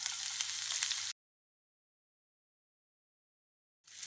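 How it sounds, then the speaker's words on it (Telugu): Mustard seeds, urad dal and green chillies fry in hot oil for a carrot curry, giving a bright, steady hiss that stops abruptly into silence and returns near the end. "ఆవాలు మినపప్పు వేస్తున్నా అండి మిర్చి వేస్తున్నా అండి"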